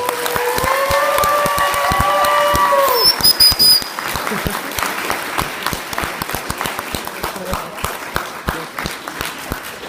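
Audience applause following a motivational speech at an ELITE Vancouver event, dense steady clapping across the whole stretch with a brief voice and whistle near the start, the clapping thinning slightly toward the end.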